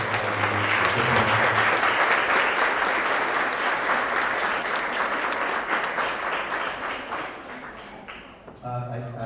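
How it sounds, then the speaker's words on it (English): Audience at a school award assembly for grades 6 to 8 applauds with dense, sustained clapping that gradually thins out and fades, followed at the end by a voice. "one big round of applause for all of our kids"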